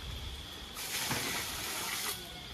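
Water gushes from a tap over rice being washed for large-scale funeral cooking in Jamaica, a steady hissing flow that starts suddenly and runs for over a second before cutting off, with quiet surroundings around it.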